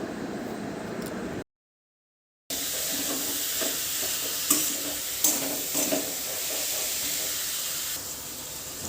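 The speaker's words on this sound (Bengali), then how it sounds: "পুরটাকে এবার ভালো করে ভেজে নেব নেড়ে চেড়ে, যতক্ষণ না কাঁচা গন্ধটা যাচ্ছে।" A spiced pointed gourd filling with turmeric, cumin, coriander and chili powder fries and is stirred in a pan, giving a steady close sizzle and hiss with scattered scraping clinks and a brief dropout near the start.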